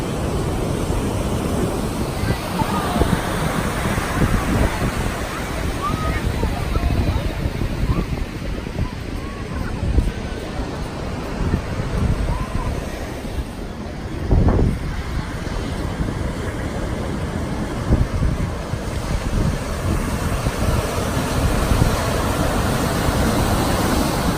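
Ocean waves at the beach on a nice day, a continuous broad wash of surf with gentle swells, mixed with wind buffeting the microphone, and no voices.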